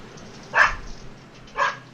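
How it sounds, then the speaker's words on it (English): A dog barks twice, about a second apart, with sharp, fairly loud barks over a quiet room background and no talking. "that dog barking is louder than me"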